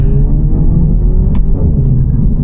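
Steady, loud low rumble of a car engine, a 2024 Renault Megane RS 300 Trophy with a 1.8-liter turbo four-cylinder making 300 hp, droning evenly throughout with slight variations in pitch and no talk.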